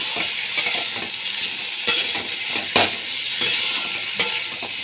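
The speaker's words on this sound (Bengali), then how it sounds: "ভালো করে আমি এখানে কষিয়ে নিচ্ছি করে কষিয়ে নিতে হবে" Elephant foot yam curry being sautéed in a pan, a steady bright sizzle broken by several sharp scraping stirs and light utensil clinks, close up and with no talk.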